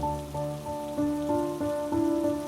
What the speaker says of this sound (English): he felt the first drops of rain fall on him